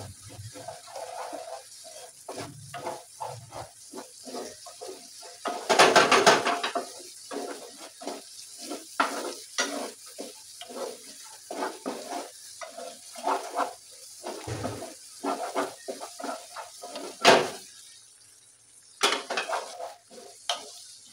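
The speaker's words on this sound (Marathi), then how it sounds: "गरम मसाला ॲड केला आपण. त्याला आपण परतून घेऊ चांगल्या पद्धतीने." Chicken masala stir-fried with garam masala in a pan, rapid repeated scraping and clinking of a spatula against the metal with a soft sizzle underneath, close and fairly loud.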